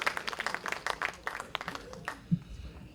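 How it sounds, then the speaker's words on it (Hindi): A mushaira audience at a 2014 Braj Kala Kendra poetry gathering in Delhi claps to welcome poet Dr. Nawaz Deobandi. The scattered, moderately loud clapping thins out and fades after about two seconds. "आइए तालियों की गूंज में हम इस्तकबाल करें डॉक्टर नवाज"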